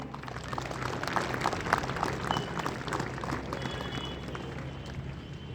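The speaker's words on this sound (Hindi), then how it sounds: "आइए हम जोरदार तालियों से उनका स्वागत करें।" A crowd at a 26 January Republic Day school function applauds to welcome the chief guest, a Father: steady, dense clapping sustained throughout at moderate loudness, with no pauses.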